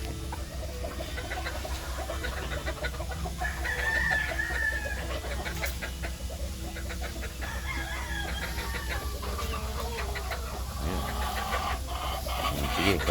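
Roosters crow and clucking sounds among farmyard noise, moderately near, with occasional faint background sounds.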